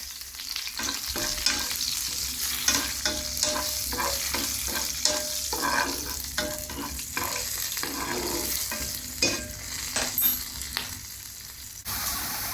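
Curry leaves, cashews and slit green chillies sizzle and crackle steadily in hot oil for a tempering, with repeated stirring scrapes and pops in a pan, close and fairly quiet.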